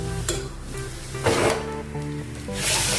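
Two spoons of yogurt hit a pan of hot spices with a sharp sizzle, followed by stirring scrapes and a hissing surge of frying that rises again at the end.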